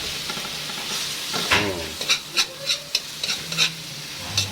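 Crushed tomatoes sizzle and sputter in a hot pan for a Filipino salmon-head dish, with a steady frying hiss broken by several soft spoon-stirring scrapes and squelches close by.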